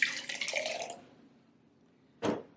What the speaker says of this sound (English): We're just going to put some fresh water, and this is purified water, and you're just going to fill it on both.